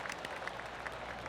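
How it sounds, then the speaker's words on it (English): Light, polite golf clap from a small crowd in the video game PGA Tour 2K25, a thin patter of scattered claps heard at moderate distance. "That deserves a golf clap."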